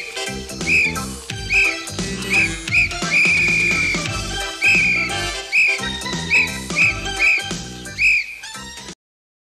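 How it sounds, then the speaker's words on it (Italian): A coach's whistle blown during running training, sounding in short sharp blasts again and again with a few longer ones, loud and close over background music and movement. "Ma senti questo fischietto, se la smetti."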